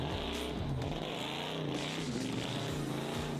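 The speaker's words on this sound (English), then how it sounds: "It just sounds like you got a monster truck engine in it." A Hellcat engine fitted in an offroad 4x4 roars loud and close, a deep steady growl with rising and falling rev swells and no talking over it.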